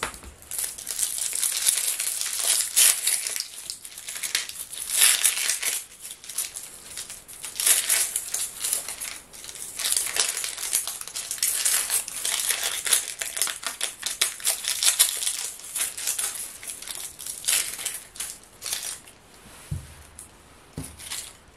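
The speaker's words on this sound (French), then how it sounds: "pendant que ça chauffe, on va éplucher l'oignon" Papery onion skin being peeled by hand in a kitchen, a steady run of close crinkling and crackling with small sharp snaps, with no talking.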